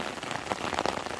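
Rain patters down steadily through the woods, a dense, close hiss of drops striking leaves and ground with scattered brighter taps and no voices.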